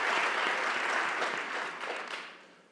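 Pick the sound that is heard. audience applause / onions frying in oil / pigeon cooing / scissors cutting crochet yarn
audience applause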